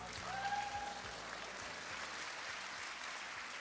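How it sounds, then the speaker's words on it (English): Audience applause for Master Kim Deok-soo's Samulnori troupe at the 2025 ICLA opening ceremony, a fairly faint, steady wash of clapping that swells briefly near the start, with a short tonal whistle or feedback line overhead. "Let's give them a final round of applause."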